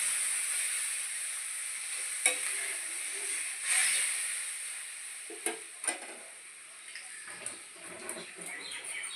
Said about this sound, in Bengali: এবার আমরা এতে জল মিক্স করবো যেহেতু আমরা এটা ঝোল করবো